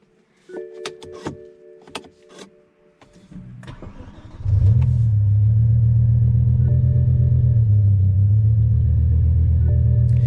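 A BMW E60 M5 with suspected rod knock starts up: a few clicks and clunks, then the starter cranks and the engine catches into a loud, steady, close rumbling idle that holds to the end.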